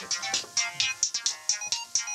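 A mobile phone ringtone for an incoming call, a bright electronic melody of repeated short tones about four to five per second, clear and close with no voices over it.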